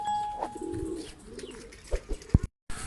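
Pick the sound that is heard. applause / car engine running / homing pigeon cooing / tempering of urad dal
homing pigeon cooing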